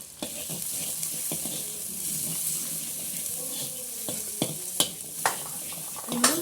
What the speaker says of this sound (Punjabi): ਬਸ ਹਲਦੀ ਚੰਗੀ ਤਰ੍ਹਾਂ ਭੁੱਜ ਜੇ